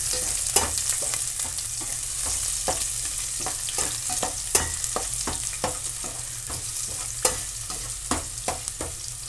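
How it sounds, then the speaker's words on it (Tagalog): Onions stirred in a hot sizzling pan for rooster chicken adobo in coconut milk, a spatula scraping and clacking against the pan in an uneven rhythm over a constant frying hiss, close up and without speech. "Halo-halo ng kaunti."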